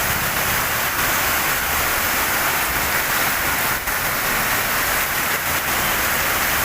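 Heavy monsoon rain in Kerala pours down steadily, a dense, loud hiss that fills the whole stretch without letup, no voices over it.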